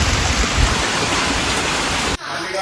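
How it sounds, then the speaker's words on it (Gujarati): Rain falls outdoors as a dense, loud, even hiss that runs steadily for about two seconds, then cuts off abruptly, leaving quieter background. "તો મિત્રો વરસાદ થોડો આવે છે"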